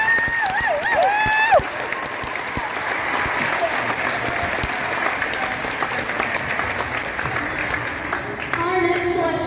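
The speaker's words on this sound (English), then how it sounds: "give all of our soloists and groups another round of applause" An audience at a middle school band spring concert gives sustained, full applause for the soloists and groups, dense clapping filling the hall, with a brief voice at the start and faint tones near the end.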